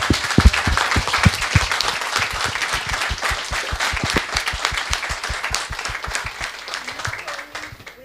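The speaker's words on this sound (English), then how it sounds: "can we have another round of applause" A summit audience gives loud, sustained applause for a wordless performance using only scarves, with sharp distinct claps near the front over a dense crowd backdrop.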